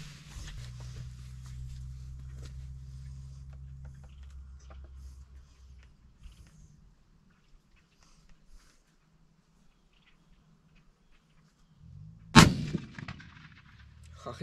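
Rifle shots while sighting in guns for deer season outdoors: a low rumble fades to near silence, then one sharp, loud shot cracks near the end with a brief decaying echo.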